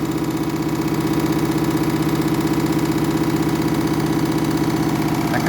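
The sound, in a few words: washing machine badly unbalanced on final spin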